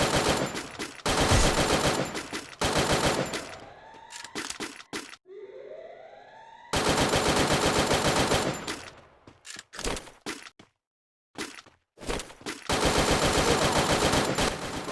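Free Fire battle royale gunfire: dense rapid automatic bursts, loud and close, broken by a quiet stretch with a rising whine, then more sustained firing and scattered single shots.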